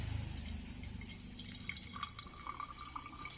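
Water is poured over ground coffee in a family Aceh coffee brewing setup, a steady close trickle and splash that fades into lighter dripping. No one speaks.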